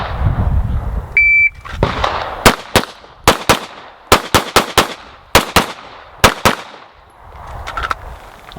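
A shot timer's electronic beep starts a handgun speed drill, followed by twelve sharp, loud pistol shots at a target, fired in quick bursts of two to four with short pauses between, outdoors and with no talking.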